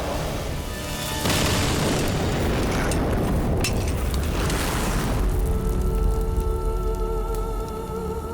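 A loud, sustained roaring blast from a bomb explosion in a war drama, starting abruptly and rumbling heavily with broad noise for several seconds before easing off.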